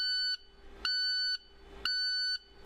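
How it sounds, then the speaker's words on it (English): Dashboard warning alarm of an International DuraStar truck signaling a DPF fault: three evenly spaced, high electronic beeps, each about half a second long, clear and close with nothing else around them. "If the DPF light is flashing with a beeping alarm,"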